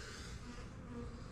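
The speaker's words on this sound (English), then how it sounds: "So there's a couple bees on there on the cage." Honeybees buzz around queen cages in a hive frame, a low steady drone from close by, fairly faint and continuous with no talking.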